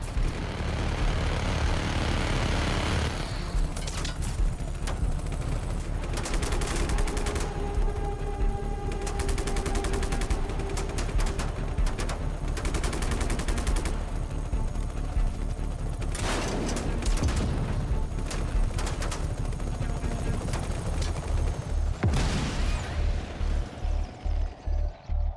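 Dense gunfire and repeated explosions in the video game Just Cause 3, with aircraft roaring overhead, as fuel tanks are torn down and guns are switched; loud and continuous throughout, no talking.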